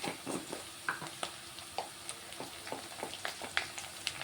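A spoon stirs ginger garlic paste and turmeric in a hot pan, giving soft repeated scraping strokes over a low, steady sizzle.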